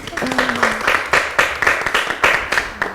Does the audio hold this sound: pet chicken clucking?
no